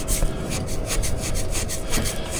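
A razor blade scrapes hard water stains off a coated window in quick repeated rasping strokes, close and loud with a steady rhythm and no voices over it.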